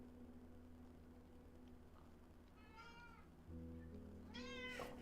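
A pet cat meowing indoors in two short bursts, the second louder and closer, over a steady low electronic hum with no talking.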